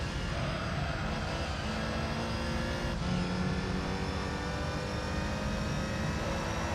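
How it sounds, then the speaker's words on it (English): A TVR Tuscan Speed 6 racing in Gran Turismo 3, a continuous loud engine drone at high revs with a slight shift in tone partway through, steady and unbroken. "The TVR Tuscan Speed 6 in that beautiful yellow is also just absolutely tearing at the course."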